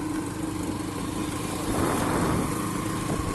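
A tractor engine on a rough road between Majuli and Sivasagar, heard over a motorcycle rider's own running engine: continuous loud mechanical drone and wind, swelling slightly toward the end, no voices.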